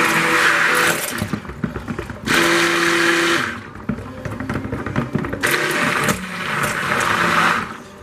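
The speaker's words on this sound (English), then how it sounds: "I'm going to go ahead and stick blend this TD in" A stick blender whirs through soap batter in loud, steady bursts, switching on and off several times, each run a continuous motor whine with a churning edge, close up and without talk.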